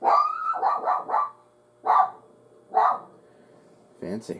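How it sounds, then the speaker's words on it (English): A dog barks indoors in the background while a person talks over it, with a few short, separate barks breaking through between the phrases of speech. "You can hear my dog barking in the background as well."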